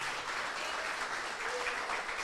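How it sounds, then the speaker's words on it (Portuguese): A church congregation applauds in praise during a worship service, a dense, steady wash of many hands clapping at once, sustained and fairly loud throughout with a few voices faintly mixed in. "Aplaude o Senhor então por isso."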